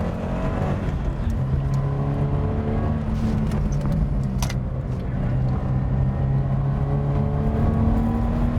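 A manual car's engine held at high revs with heel-and-toe downshifts during a track lap, a steady loud drone under some whir and tonal shifts, no talking.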